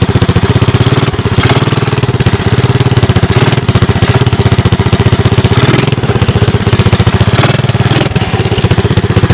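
A 1983 Honda ATC 200M three-wheeler running on a portable ignition, its single-cylinder engine chugging loudly and steadily up close with a rapid, uneven pulsing throb throughout.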